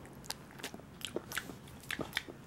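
A dog chews noisily close by after eating, wet crunching bites and smacks repeating irregularly at a moderate level in a quiet room.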